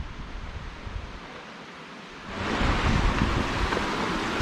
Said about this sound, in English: Oh, they're the waterfalls.